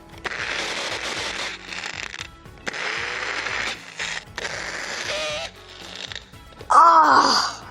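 A grinder grinding sugar until fine, loud whirring bursts that start and stop several times, with a harsher, louder surge near the end, close by and not under talk.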